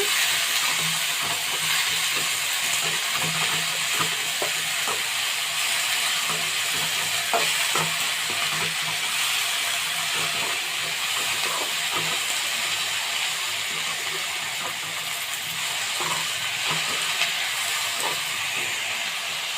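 Malabar spinach (bachali kura) frying in a pan, a steady close sizzle and hiss with faint stirring scrapes running throughout, no voices over it.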